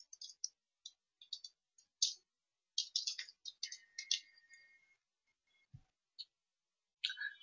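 Sparse computer mouse clicks and light key taps come in irregular bursts, close and quiet against near silence, with no talk.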